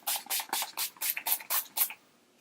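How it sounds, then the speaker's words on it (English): Makeup finishing setting spray mists out in about eight quick pumps, close and crisp, each a short hissing burst in an even rhythm before quiet. "I take my setting spray and I spray it on."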